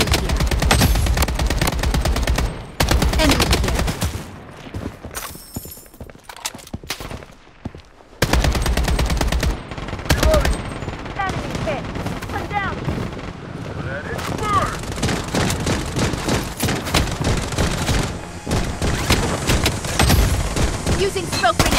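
Dense bursts of automatic gunfire and single shots crackle across a Payday game firefight, loud and near, with brief lulls and short voice callouts between volleys.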